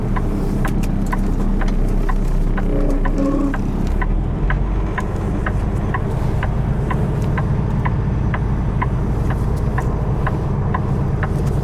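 A truck rolls through a slow, tight turn, its steady mid-pitched engine running close and continuous with a faint regular ticking throughout and no talk.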